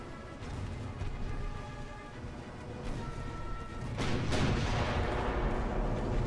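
Battleship guns fire on an enemy heavy cruiser in the naval game Ultimate Admiral: Dreadnoughts, a low rumbling backdrop with muffled booms and a heavier distant blast swelling near the end, no speech.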